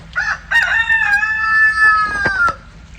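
A rooster crows loudly and close by in one long, sustained cock-a-doodle-doo, with brief clucks from nearby chickens at the start and end.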